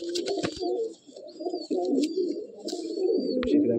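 Madrasi pigeons of an old bloodline in a loft at Sodhpur coo steadily and close by in low, throaty rolls, with brief sharp clicks and wing flutters mixed in.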